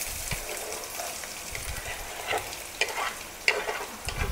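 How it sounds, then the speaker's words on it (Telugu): Onions with green chillies frying in hot oil for a chicken curry, a steady sizzle with occasional stirring scrapes and small pops, close and fairly loud. "నెక్స్ట్ ఇందులోకి ఆనియన్స్ వేసుకోవాలి."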